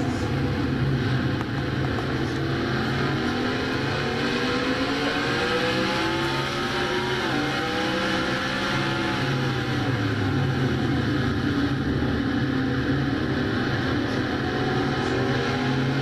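A Castrol GTX Cup Series race car heard from onboard, its engine droning loud and steady with rising pitch sweeps as it accelerates up through the gears.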